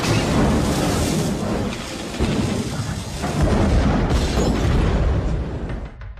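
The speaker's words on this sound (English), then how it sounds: "climbs into his 1983 Eldorado, turns on the ignition, and is engulfed in a fireball" A car bomb erupts in a 1983 Eldorado as the ignition is turned, a sustained booming roar and rumble with bursts of debris, swelling loud and broad before trailing off, no voices.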